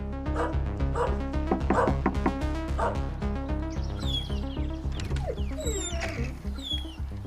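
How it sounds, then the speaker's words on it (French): A neglected dog shut inside a house barks in a steady series of loud yaps, then breaks into high, wavering whimpers and whines, close and alone without any talk. "Un chien dont on ne s'occupe pas, ça s'entend."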